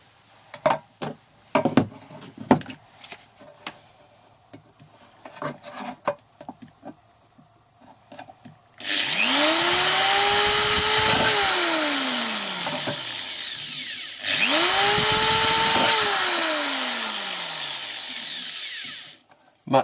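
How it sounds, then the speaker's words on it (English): A power drill bores into a thin metal soup can set on a base plate. Scattered knocks and rattles come first, then two long, loud whining drill runs, each rising and falling in pitch, close up, with no talk. "as I'm putting pressure onto the can to drill in, it's bending"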